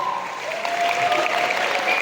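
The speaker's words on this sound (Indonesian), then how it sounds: "Tepuk tangan buat Habibana." Audience applause at an Islamic New Year religious gathering at a pesantren in Sukabumi, a steady crowd clapping that swells slightly and holds.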